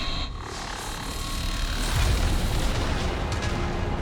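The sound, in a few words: Sovereign firing lasers in the video game Mass Effect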